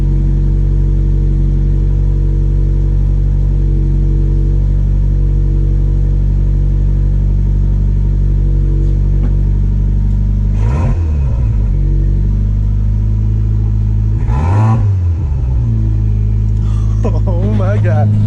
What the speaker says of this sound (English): that's about the longest that this car's ran in years